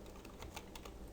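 Quiet typing on a computer keyboard, a steady run of soft, close key clicks at an irregular pace over low background hiss, with no talking.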